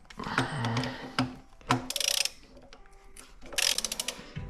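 A ratchet turns over a 318 engine by the crankshaft bolt, giving quick bursts of close metallic clicking between pauses, along with clunks and scraping as the wrench is worked.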